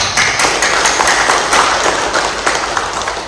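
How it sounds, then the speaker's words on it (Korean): A church congregation at a Sunday worship service applauds together, a steady wash of many hands clapping that fills the room at an even loudness for a few seconds. "박수 부탁합니다"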